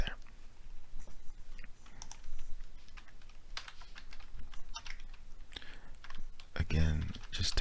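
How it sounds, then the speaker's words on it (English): Quick, irregular keyboard typing clicks in a quiet room, with a few soft bursts of background noise and a louder thump near the end. "Again, just typing in"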